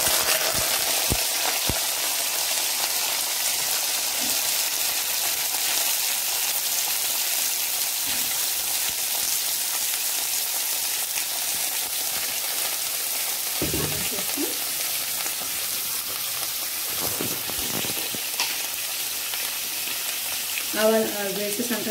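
Brinjal pieces fry in hot oil with mustard seeds and cumin, giving a loud, unbroken sizzle with occasional stirring knocks and faint crackles, and a brief voice near the end.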